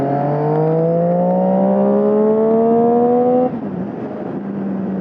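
A Triumph Street Triple 675 motorcycle engine pulls hard while riding, its loud, close tone climbing steadily for about three seconds before dropping off with a shift into a lower, quieter note.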